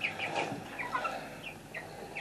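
Chickens of a social breed cluck and chatter in short bursts inside a muddy coop, several birds close by, with a flock that may include more than one rooster.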